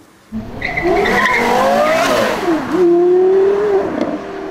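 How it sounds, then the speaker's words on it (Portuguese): A Porsche V10 sports car engine revs loudly and alone, its pitch climbing, dipping and rising again through gear changes, with a brief squeal and a steady high-rev hold near the end. "O som do carro é lindo."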